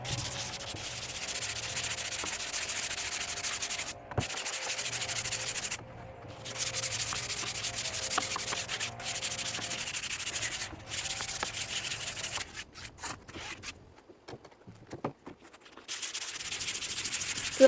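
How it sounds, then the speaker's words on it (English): Sandpaper rubbed by hand over a ready-made canvas, a continuous dry scratchy hiss in long back-and-forth strokes, broken by several short pauses, close and moderately loud. "now we're directly using sandpaper on it"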